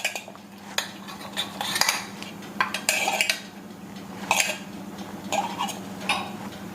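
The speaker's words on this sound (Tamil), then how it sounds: "இந்த கிண்ணத்தில் வந்து நம்ம வெண்ணெய் தடவுறேன்" Butter is spread around a bowl with a utensil, making a quick, irregular run of close clinks, taps and scrapes against the bowl, with brief pauses between the strokes.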